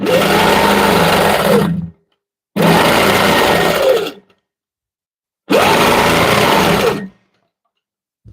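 A sewing machine stitches a dot-to-dot quilting design in blue thread, running in three steady bursts of about a second and a half each, separated by short silences.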